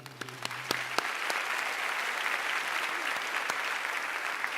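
Graduation audience applause fills a large hall, a steady dense wash of clapping that sets in after a brief tone and holds evenly loud to the end, with no one speaking.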